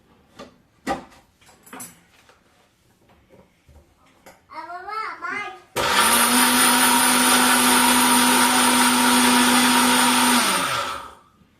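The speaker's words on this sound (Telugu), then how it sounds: "మళ్ళీ మిక్సీ పెట్టేస్తాం ఒకసారి" Children chatter briefly, then a mixer grinder roars to life grinding chilli powder, salt and garlic, running loud and steady for about five seconds before winding down.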